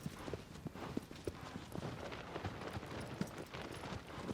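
Rapid rhythmic hoofbeats of a horse galloping across open ground in the video game Shadow of the Colossus, a steady clip-clop under a soft wash of wind and background noise, fairly quiet.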